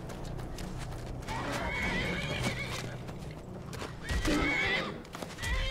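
Horse in the video game Skyrim whinnying and neighing loudly and up close, with clip-clopping hooves and thumping scuffle sounds continuing throughout.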